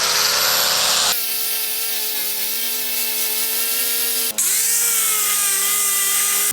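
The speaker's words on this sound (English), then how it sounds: "I'm going to go ahead with this wire brush on an angle grinder" A wire brush spinning on an angle grinder scours rust from a Blackstone griddle's steel cooktop, a loud, steady high whine with harsh abrasive scraping that shifts in pitch as the load changes, pausing briefly near the end before resuming.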